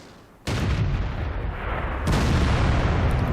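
Artillery gun in World of Tanks firing shells: two heavy booming shots, the first around half a second in and a second near two seconds, each followed by a long rumbling tail, loud and close with no talk.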